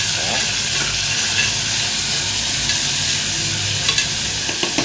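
Chopped tomatoes fry in a pan for a rice and lentil dish while being stirred, giving a close, steady sizzling hiss with soft scraping strokes and a few light clicks of the spoon.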